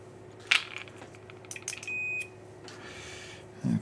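A Fluke 8050A multimeter's continuity tester gives one short, clear, high-pitched beep, surrounded by faint clicks and handling noises from the probes.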